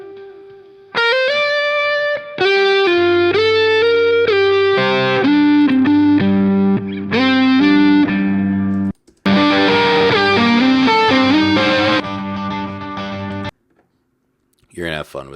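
Distorted electric guitar multitrack stems from a song, playing loud, heavily effected chords and riffs in sections, stopping abruptly twice with brief gaps, then a quiet tail and a faint pickup at the end.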